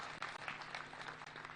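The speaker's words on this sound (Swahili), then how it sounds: "Tafadhali president apigwe makofi kwa heshima tafadhali." A crowd at a Meru, Kenya gathering applauds President Ruto: a short, fairly faint burst of dense clapping.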